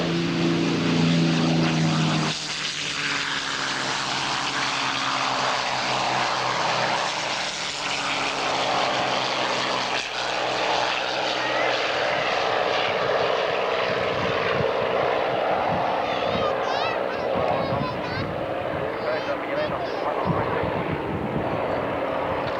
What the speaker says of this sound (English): Now we have the enemy aircraft to the bombing target.